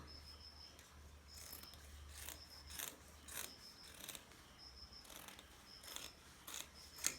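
Scissors snip through gown fabric around the armhole, making faint, quiet crisp cuts in short repeated bursts separated by brief pauses.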